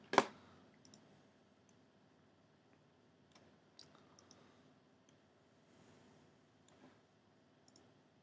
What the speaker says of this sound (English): left-click and then right-click and grab, or click and hold